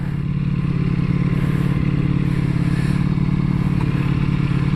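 A 2022 Ducati Panigale V4S engine with stock exhaust idles with a steady, throbbing low rumble and a faint mechanical clatter, loud and close, continuous throughout.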